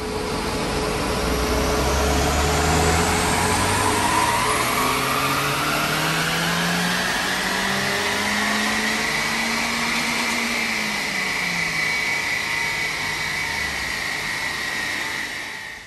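A tuned Mitsubishi Colt Ralliart engine running hard through a power run, a loud continuous roar that climbs steadily in pitch for about fifteen seconds and then cuts off near the end.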